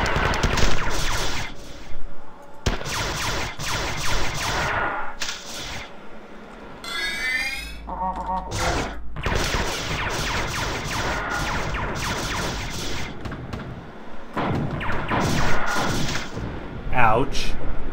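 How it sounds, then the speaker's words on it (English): Gunfire in the shooter game Marathon 2: Durandal, dense bursts of loud rapid shots and blasts with brief pauses, mixed with electronic game effects. "Just keep firing."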